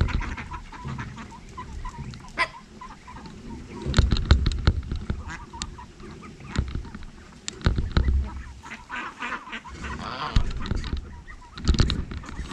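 Goose honking in short, uneven bursts from fairly close, mixed with other poultry calls over a busy outdoor background.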